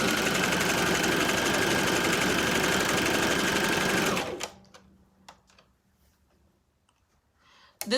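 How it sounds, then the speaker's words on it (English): A Brother sewing machine whirs steadily for about four seconds, then stops abruptly, leaving a few faint clicks and handling noises. "The sewing machine that I'm using right now is a Brother sewing machine."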